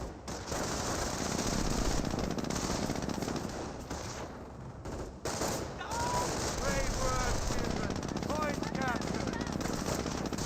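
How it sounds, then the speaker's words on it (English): Rapid machine gun fire from a jeep in the World War II strategy game Company of Heroes, dense continuous bursts with explosions underneath, while a commentator talks over the battle. "We do have now the Jeep firing away against this Volks Grenadiers"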